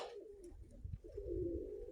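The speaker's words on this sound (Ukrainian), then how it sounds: "Отакі голуби" Soft, low pigeon coos close by, a couple of drawn-out throaty calls over quiet background rustle.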